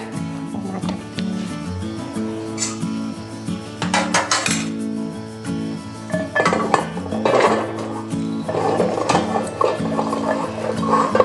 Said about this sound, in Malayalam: ഇതാണ് നമ്മൾ മിക്സ് ചെയ്യാൻ വേണ്ടിയിട്ട് നമ്മൾ ഗോബി ഒരു ബൗളിലേക്ക് മാറ്റുകയാണ്